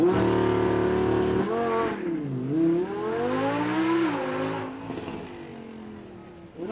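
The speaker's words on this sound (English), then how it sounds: "This one is no ordinary Mustang, this is a GT850." A Ford Mustang GT850 with 859 horsepower, at a supercar weekend, sits revving loudly at a steady high pitch before launching hard with wheelspin, its engine note rising and falling through gear changes, close and dominant throughout.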